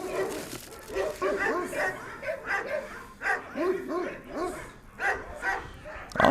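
An injured street dog with a hurt eye yips, barks and whimpers in short bursts up close while a person talks to it soothingly during treatment.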